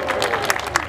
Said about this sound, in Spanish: Y el aplauso por la pareja número uno